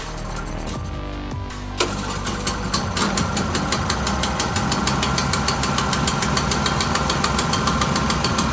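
A Toro 518 ZR snowblower engine cranks, catches and settles into a loud, steady idle with a rapid, even knocking beat that runs on close and alone.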